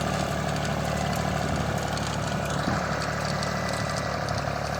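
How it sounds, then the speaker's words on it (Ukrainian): A Zubr 240 tractor engine runs steadily while tilling a field with a 1.6 m Japanese rotary tiller after ploughing, a continuous loud, dense drone with no talk. "Це потужний, потужний трактор."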